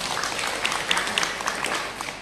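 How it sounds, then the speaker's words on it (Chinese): Audience at a Buddhist dharma talk breaks into applause, a continuous even patter of many hands clapping, fairly close and unbroken, with little talk over it. "掌声鼓励"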